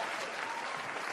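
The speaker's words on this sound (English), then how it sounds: "Give it a hand clap." Audience clapping in a dense, steady burst of applause that fills the whole moment at even loudness, with no voices over it.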